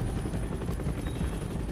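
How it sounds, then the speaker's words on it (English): A helicopter in the X-Men Origins Wolverine video game gives a steady, loud, thudding rotor drone with a constant engine whine, close by and with no talk over it. "Oh, helicopter."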